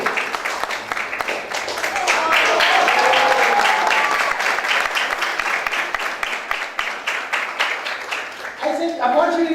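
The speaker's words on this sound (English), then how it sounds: "she deserves a big round of applause" A lecture-hall audience at a management institute's motivational talk breaks into a long round of brisk, rhythmic clapping, with a few voices and cheers mixed in and speech resuming as the applause dies away.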